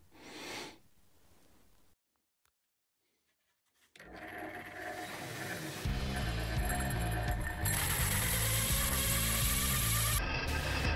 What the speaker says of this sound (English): And then we just drill and use a bit of water to cool the cut with.